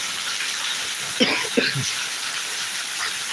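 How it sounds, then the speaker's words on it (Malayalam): Heavy rain hisses steadily throughout, and a couple of brief low thumps or voice-like sounds briefly rise above the downpour. "അടിപൊളി മഴ"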